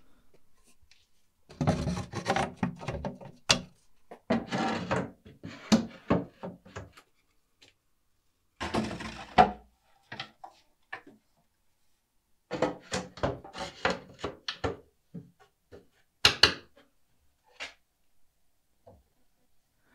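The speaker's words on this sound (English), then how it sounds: "I'll add the shelf pins and drop in the shelves." Wooden shelves clatter and knock onto shelf pins inside a shop cabinet in bursts of thuds and scrapes, with quiet pauses between, close by.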